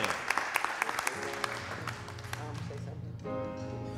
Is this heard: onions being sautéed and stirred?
no